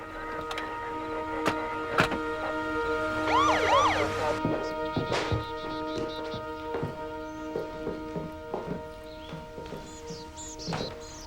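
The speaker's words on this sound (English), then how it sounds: "Ambulance." An ambulance siren in the video game Tender Loving Care, a brief wailing sweep that rises and falls twice, then fades into a quiet interior background with scattered clicks and knocks.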